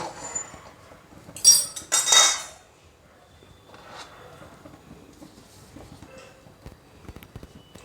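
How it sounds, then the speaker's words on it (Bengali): A metal wok being set back down on a gas stove while cooking coconut sweets, giving a cluster of sharp metallic clinks and clatters near the start, then quiet faint kitchen rustling. "এবার তিলগুলো কড়াই থেকে নামিয়ে নিলাম আবার গ্যাসের উপরে কড়াইটা বসিয়ে দিলাম"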